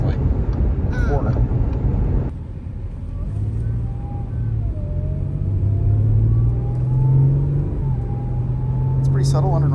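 Audi under hard acceleration, a steady engine drone with a faint rising intake whine sweeping up over several seconds, car interior, with talking over it.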